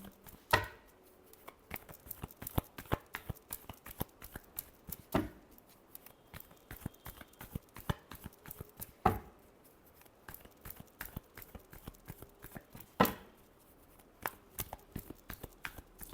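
Tarot cards are shuffled by hand in short bursts of riffling and tapping, with a few sharper slaps of the deck, close and quiet, without speech.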